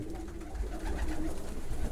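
Low, soft pigeon cooing rolls on continuously up close, a gentle throaty murmur with no voices.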